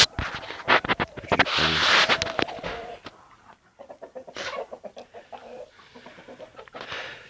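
Backyard chickens, including Ispenç and Ataks breeds, clucking and scratching close by, with a dense burst of calls early on, then scattered softer clucks and rustling noises.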